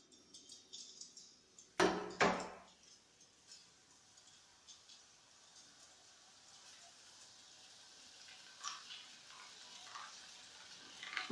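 Boondi batter fries in hot oil while being stirred, a quiet crackling sizzle with light ticking and scraping, and one louder splash-like burst of sizzling early on.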